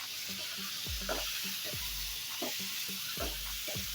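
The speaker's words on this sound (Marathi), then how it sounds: "छान पद्धतीने परतवायचं आहे आपल्याला हे" Bitter gourd frying in a pan and being stirred, a continuous sizzle broken by repeated scraping strokes of a spoon at a steady rhythm, close up with no talking.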